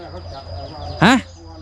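A single short, bright bird call rings out, a quick rising-falling chirp over faint background murmur.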